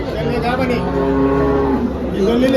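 A cow at a cattle market lets out one long, loud, drawn-out moo close by, filling the whole moment with its deep, wavering call.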